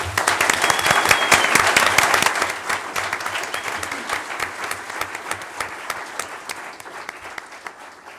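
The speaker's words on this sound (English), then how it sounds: "Let's give the candidates a big round of applause." Applause rises for the alderman candidates at a 2019 candidate forum, loud and full at first, then thinning into scattered, sharper claps over eight seconds.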